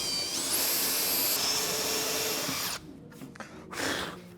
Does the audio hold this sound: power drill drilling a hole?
yes